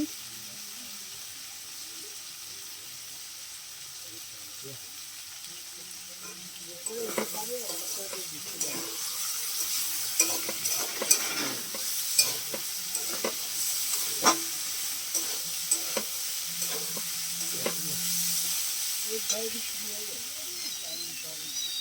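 Chow mein noodles, boiled with salt and turmeric, are stir-fried in a pan. A quiet stretch gives way to steady sizzling and irregular scraping and clinking of a utensil against the pan, close by.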